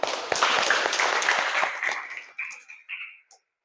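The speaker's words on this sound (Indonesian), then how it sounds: "Oke, tepuk tangan." A classroom group bursts into applause, many hands clapping briskly before it thins into a few scattered claps and dies away.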